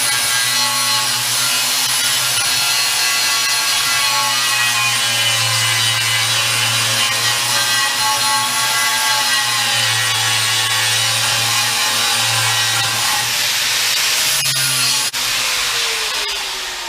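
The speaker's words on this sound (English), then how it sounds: "the big heavy grinder here just does it faster with I got a 60 grit flat wheel on here right now" A heavy angle grinder fitted with a 60 grit flat wheel smooths welds on a 1969 Charger K-member, giving a loud, steady, continuous abrasive whine that runs near and alone for the whole stretch before cutting off at the end.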